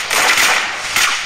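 Gunfire in the Free Fire battle royale game: two loud, dense bursts of shots, close up and about a second apart.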